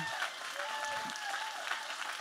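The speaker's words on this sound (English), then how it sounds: "just give a great uh, round of applause for them, too" Church congregation applauding during a sermon, a fairly soft, even wash of clapping with faint voices mixed in.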